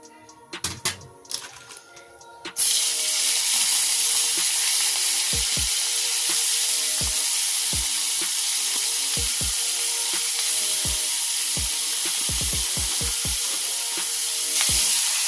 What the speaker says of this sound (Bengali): যে কাঁকড়াটা আমি মাখিয়ে রেখেছিলাম ওই কাঁকড়াটা আমি ভেজে নিচ্ছি এই তেলে।